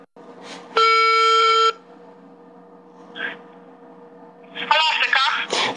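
A steady electronic tone sounds once for under a second, like a phone ringing, followed by quiet line hiss, a faint blip, then a voice speaking.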